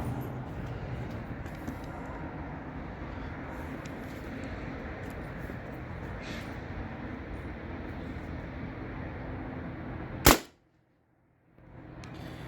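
A modified T4E TR68 air gun fires a homemade 6-gram slug, one sharp loud crack near the end that cuts off abruptly into silence over a steady background hum.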